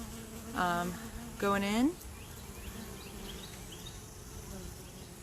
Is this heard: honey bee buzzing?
yes